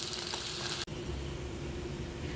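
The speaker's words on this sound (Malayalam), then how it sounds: "അത് രണ്ട് പ്രാവശ്യമായിട്ട് നമുക്കിത് വറുത്ത് പോരാം" Pieces of chicken fry in hot coconut oil for a Christmas chicken perattu, giving a steady, close bubbling sizzle with a brief break partway through before the hiss resumes unchanged.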